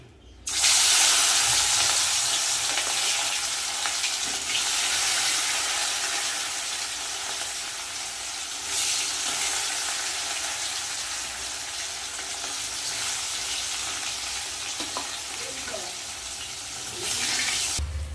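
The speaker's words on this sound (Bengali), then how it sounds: "তেল কিন্তু গরম হয়ে গেছে এবার আমি মাছগুলো ভেজে নেব" Pieces of rohu fish dropped into hot oil in a kadai, a loud sudden burst of sizzling that settles into a steady crackling hiss, close up.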